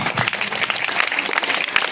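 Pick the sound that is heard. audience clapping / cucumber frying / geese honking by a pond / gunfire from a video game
audience clapping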